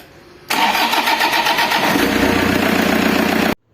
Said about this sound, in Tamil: இப்போ இன்ஜின் ஆன் பண்ணுறோம்